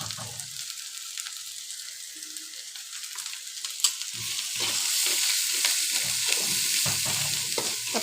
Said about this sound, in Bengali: হালকা একটু পাঁচফোড়ন দিচ্ছি।